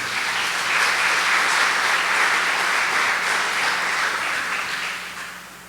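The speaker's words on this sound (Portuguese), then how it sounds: "Tem uma salva de palmas ao Senhor aí." A church congregation applauds in praise of the Lord, with dense, steady clapping from many hands that fills the room for several seconds before easing off toward the end.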